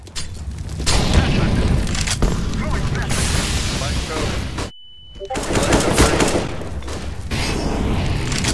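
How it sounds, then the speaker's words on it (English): Flashbang grenade bursts in a Counter-Strike-style shooter match, a sharp bang with a brief ringing silence and high tone, amid rapid gunfire and players talking over the action. "Flashbang."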